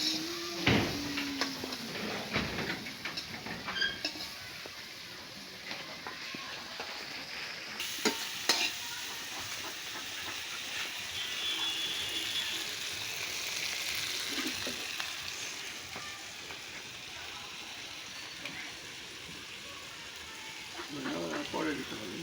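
Shrimp frying in a spiced curry in a village kitchen, a soft continuous sizzle with occasional stirring scrapes and knocks, while people talk nearby.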